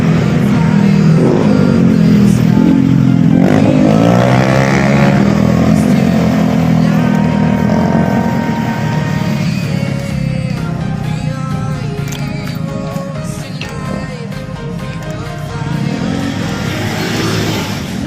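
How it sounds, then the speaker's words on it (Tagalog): Loud, continuous road traffic heard from a bicycle on a road in General Trias, Cavite, with engines and motorcycles revving and passing close by, rising and fading in overlapping waves. "Traffic na rito mga kanayon."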